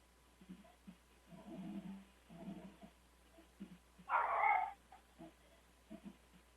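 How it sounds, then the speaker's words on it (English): A small dog makes faint yips and whimpering barks in the background, with one louder bark partway through, at a low, distant level. "Sorry about the little dog in the background."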